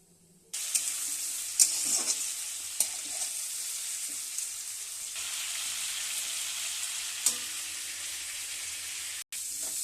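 Papaya pieces fry in a pan with a little ghee for a papaya-potato curry with prawns, giving a steady, close sizzle that starts abruptly and runs throughout, with a few brief utensil clicks and stirs.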